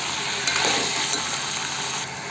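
Chole being stirred in a pan after salt is added, a steady broadband sizzle and scraping hiss running continuously at close range with no talk.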